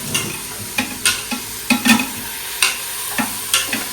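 Tomatoes are stirred and sautéed in a pan, with repeated scraping strokes of a utensil over a steady loud sizzle, close up and with no talking.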